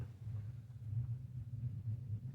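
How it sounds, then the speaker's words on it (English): A deep, steady rumble like distant thunder from an approaching storm, heard within a card game. It rolls low and faint for a couple of seconds and swells slightly without a sharp crack. "sounds like we're getting a storm."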